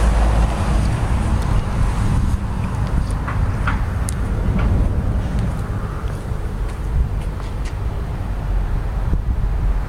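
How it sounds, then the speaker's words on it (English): Trucks passing one after another on a road at night, a loud constant roaring rumble with wind buffeting and faint higher clinks scattered through, no talk. "Truck after truck after truck."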